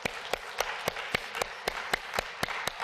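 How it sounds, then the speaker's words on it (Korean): Church congregation applauding during a sermon: a fairly close, steady wash of clapping with sharp individual claps standing out at a roughly regular beat. "우리 하나님께 영광의 박수 한번 돌립시다."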